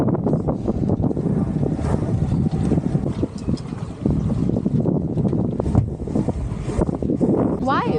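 A sailboat under way at the Dubai Offshore Sailing Club, with steady, loud wind buffeting the microphone over rushing water and hull noise, and occasional voices mixed in.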